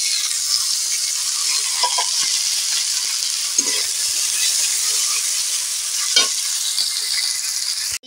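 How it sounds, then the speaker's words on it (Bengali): Onions frying in oil in a pan for a Bengali bitter gourd, bori and potato curry, a steady broadband sizzle held throughout with a few soft stirring scrapes and clinks, close and alone. "পেঁয়াজটা আমি লাল করে ভেজে নেব"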